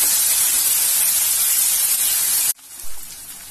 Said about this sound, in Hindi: और अब टमाटर गले तक हम इसे पका लेंगे।